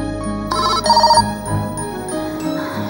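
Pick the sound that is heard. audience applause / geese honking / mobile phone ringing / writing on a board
mobile phone ringing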